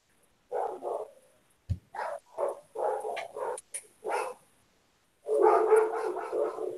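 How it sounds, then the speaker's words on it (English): A neighbor's dog barking outside, heard at a distance as short bursts of muffled barks separated by pauses, then a longer run of barking, with one sharp thump between. "That's that's the neighbor's dog barking."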